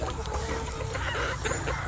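Breeder's hens clucking on a poultry farm, a dense, steady chorus of nearby fowl calls filling the yard without pause.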